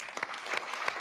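An audience at a crypto summit claps in a short, dense burst of applause, fairly distant and soft, with no clear speech over it.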